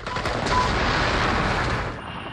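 Gunfire in the Virtual Iraq combat simulation, heard as a dense, loud, continuous rattle of rapid shots with no pause, easing slightly near the end.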